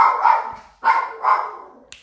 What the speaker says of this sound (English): This dog bark at every noise she hears.